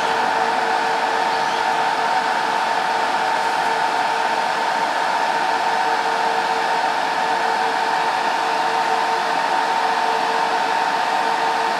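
Dell PowerEdge R730 server starting up with no front bezel fitted, its fans producing a loud, constant broadband whir with a faint steady tonal whine throughout and no talking.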